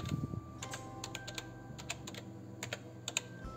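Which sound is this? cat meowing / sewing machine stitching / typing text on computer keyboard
typing text on computer keyboard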